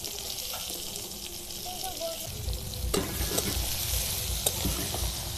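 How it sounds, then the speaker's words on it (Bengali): Crushed garlic and chopped onion fry in oil with a steady close sizzle, the stirring growing louder and busier partway through, with occasional utensil knocks. "এবার রসুন আর পেঁয়াজ ভালো করে ভেজে নেব"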